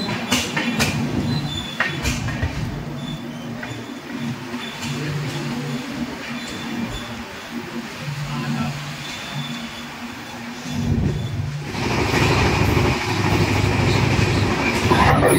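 Mahabubnagar–Visakhapatnam Superfast Express moving near Warangal, a loud steady rumble of wheels with rhythmic low tones and clatter, swelling louder near the end.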